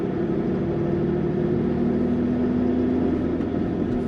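Steady engine drone from inside a car with an 8HP automatic transmission running with HTG tuning, rolling in second gear and shifting up to third; the tone hums continuously and smoothly throughout, with no talk over it.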